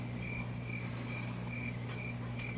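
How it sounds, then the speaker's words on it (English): Spring peepers and bullfrogs calling at night: a repeating high pulsing trill over a steady low drone, continuous and moderately faint, with no voices. "all the spring peepers and bullfrogs sing"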